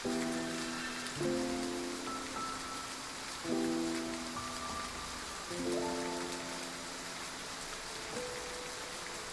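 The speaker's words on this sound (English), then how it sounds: "We'll leave once the rain stops." Steady rain falls in a scene from the video game Love and Deepspace, a constant soft patter that holds evenly throughout with no voices.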